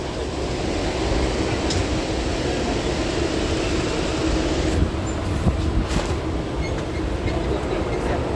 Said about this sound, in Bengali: ফাইনালি আমাদের ফার্স্ট ট্রেন ঢুকে গেছে